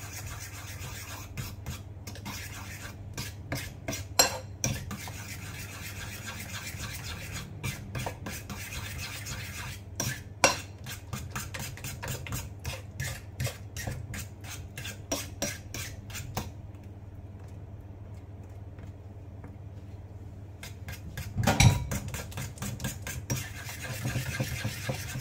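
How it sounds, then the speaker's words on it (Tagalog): Mixing ingredients in a bowl, with a continuous rhythmic scraping and rubbing of a utensil under a steady low hum, pausing briefly near the end before a knock and more stirring. "Haluin lang natin."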